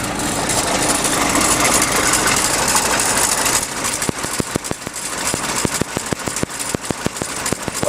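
A 1948 Willys Jeep CJ2A flathead engine running, a low chugging rumble that settles into a steady idle with regular knocking pulses in the second half.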